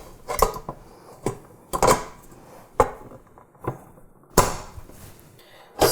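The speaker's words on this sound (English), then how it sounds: "So we're going to put the bowl on here." A mixing bowl fitted onto a KitchenAid stand mixer, heard as a series of sharp, close metallic clanks and knocks spaced irregularly, with quiet handling in between.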